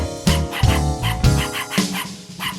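A singing voice mimics a yappy wiener dog, with several sharp barking bursts spaced across a short stretch, close and clear over a backing music track.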